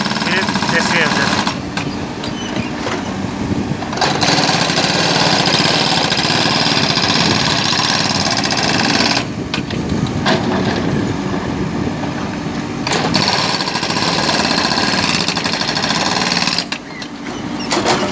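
An excavator's hydraulic breaker hammers asphalt for a road patch while a second machine levels. The breaker pounds loud and close in long runs broken by brief pauses, with diesel engine noise underneath.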